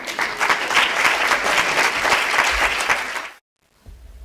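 A hall audience applauds after a poetry reading, a dense, loud wash of clapping that holds steady for about three seconds, then cuts off abruptly into near silence.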